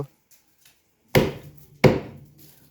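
Two sharp, close cleaver strikes come down on lamb meat against a wooden block, each a loud woody thud with a short ringing tail, spaced under a second apart with near silence before them.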